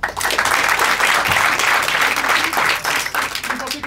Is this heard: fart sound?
no